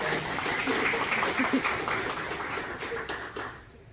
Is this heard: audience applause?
yes